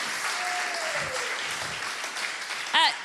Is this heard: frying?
no